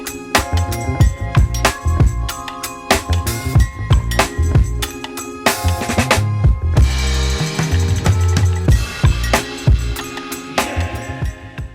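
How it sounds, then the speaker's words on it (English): A hammer drives a spatula behind chair rails to pry them off a wall in a boy's room makeover, giving many sharp, close, irregular knocks and scrapes over other tonal noise, with no talking. "I'm using a hammer and kind of hammering it down in there so that I can break it apart"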